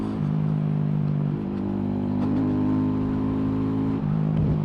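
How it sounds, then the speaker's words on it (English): A mini motorcycle engine runs steadily while riding, a continuous close drone with slight rises and dips in pitch as the throttle shifts, and no talk over it. "I know it's a mini motorcycle"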